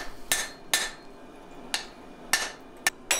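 A hammer strikes a kukri blade of 80CrV2 steel held in a vise, giving five sharp metallic knocks at uneven intervals, close and clear with quiet gaps between blows.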